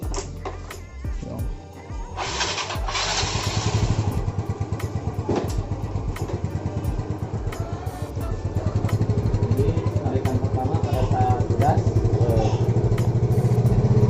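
Yamaha Mio Sporty scooter engine held at half throttle with a jerky, hesitant pull, running loud and close with a steady pulsing drone and rattling clatter throughout, picking up strength after the first couple of seconds.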